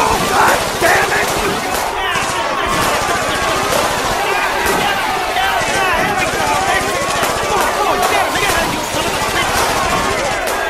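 Gunfire in a film noir audio drama shootout, rapid bursts of shots crackling continuously over loud shouting and agitated voices throughout.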